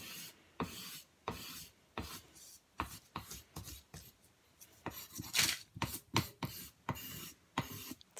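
Soft vine charcoal, a large stick, rubbed and scraped across paper in quick irregular strokes, each a brief rasping burst with short pauses between, close and fairly quiet with no voices.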